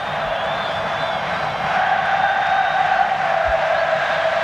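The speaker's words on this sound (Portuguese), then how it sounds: "E a torcida do Fluminense sabe que pode exercer um papel importante na partida e grita" Fluminense supporters shouting together in a football stadium during a 1995 Brazilian championship match against Santos, a dense, steady roar of distant massed voices with no distinct individual calls.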